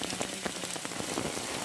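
Heavy rain pounding steadily on a surface during a river fishing outing, a dense continuous hiss with scattered drop impacts, close and loud throughout.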